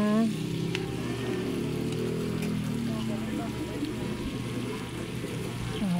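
Food sizzles and fries in a pan while being stirred, a steady close crackle with occasional scraping, as a voice talks over it.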